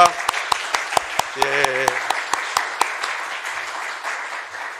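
A church congregation at a revival service claps in welcome for the pastor's wife, a steady round of loud applause with a voice speaking briefly over it.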